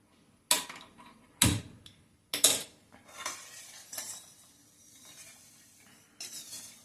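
A spoon knocks and scrapes inside a pot as an amla sharbat sugar mixture is stirred on an unlit stove, giving a few sharp separate clinks followed by softer scraping, close and with no talking.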